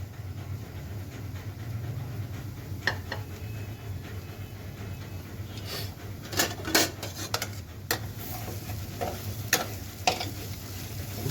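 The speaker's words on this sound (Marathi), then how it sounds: "मसाले तुम्ही जेवढे चांगले परतून घ्याल त्याला खमंग असा वास सुगंध येऊ शकतो" Masala spices for chole are stirred and fried in a pan, a low steady sizzle under sharp intermittent clinks and scrapes of a spoon against metal, close and fairly quiet.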